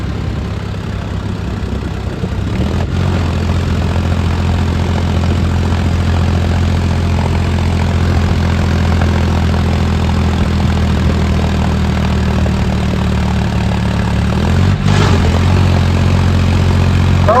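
Tractor engine running steadily on a ghat road at night, loud and close with a constant low droning hum and a brief shift near the end, no talking.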